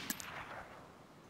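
A Winchester rifle shot in the DayZ game, one sharp crack followed by a fading rumble, heard alone and at moderate loudness.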